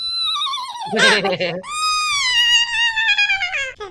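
A man imitates a horse's neigh during a Minecraft Monopoly game, giving a long, loud, wavering whinny with a rough burst partway through, close to the microphone.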